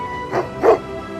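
Two short, sharp dog barks about a quarter second apart, fairly close, with quiet in between.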